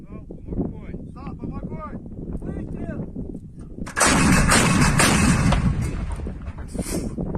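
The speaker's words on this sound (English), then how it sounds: "57mm cannon on the back of a truck, Russian truck" A 57mm cannon mounted on the back of a Russian military truck fires in a war zone near Donetsk. It comes as a sudden loud blast with a long rumbling, crackling roar that follows it. Speech is heard before the shot.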